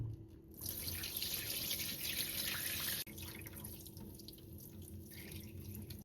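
Water from cooked food drains steadily during backyard cooking, a continuous close pouring and splashing with a brief break midway, then a softer trickle. No one speaks.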